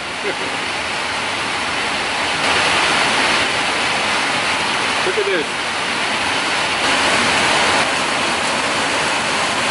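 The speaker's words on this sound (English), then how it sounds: "And now, as soon as I started talking, the heavens opened up. It's raining again." Heavy rain pours down steadily over a farm field beside a truck, a dense, continuous broadband rush that holds loud and near throughout, swelling slightly at moments, with a brief spoken remark partway through.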